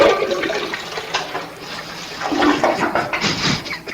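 A toilet flushes with a loud, rushing swirl of water that surges and drains steadily over a few seconds, close by and with no voices over it.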